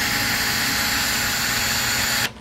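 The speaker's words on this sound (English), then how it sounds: "Let's go ahead and take these bolts off right here." A power tool whirs continuously at close range while removing bolts from the back mounting of a drinking fountain and bottle-filling station, cutting off abruptly near the end.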